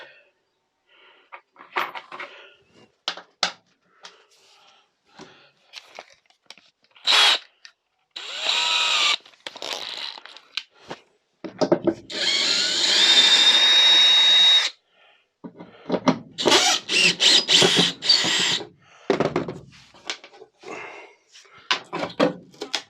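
Cordless drill driving out Phillips screws from a van's interior panel, in short repeated whirring bursts and one longer run, mixed with clicks, knocks and handling noises while the panel is worked loose.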